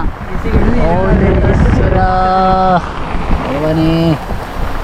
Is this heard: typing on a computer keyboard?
no